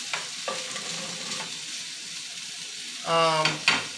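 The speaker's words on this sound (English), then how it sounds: "you want to, saute your steak and your green peppers and onions" Steak sautéing with green peppers and onions in a pan, a steady sizzle broken by brief stirring scrapes and a louder clatter near the end, with no voices over it.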